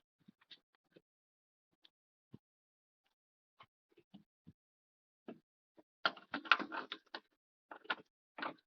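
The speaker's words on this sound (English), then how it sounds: "Tighten these back bolts up just a little bit too." Small metal mechanism sounds from tightening the rear bonnet hinge bolts on a 1955 Triumph TR2 during restoration, scattered faint ticks and clicks early, then a denser run of ratchety clicking and turning near the end.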